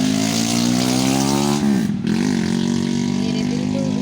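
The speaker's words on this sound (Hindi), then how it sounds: "आपको उसकी बाइक की आवाज़ आ रही" A motorbike passes near a home garden with a loud, droning engine that stays close the whole time. The pitch dips and wavers briefly midway as it moves by.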